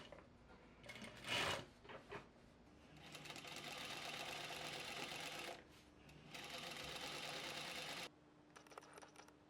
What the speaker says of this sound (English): I'm sewing up the actual garment